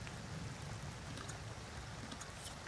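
Steady rain in The Sims 2 game, a continuous even hiss of falling drops with no voices over it.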